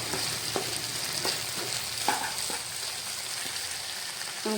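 A spatula stirs potato and egg frying in a pan, giving a steady, close sizzle with a scattering of soft scraping knocks, alone and with no talking.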